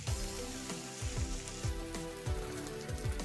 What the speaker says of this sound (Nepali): मैले चाहिँ सब्जीलाई हल्का भुनेको मात्रै छु।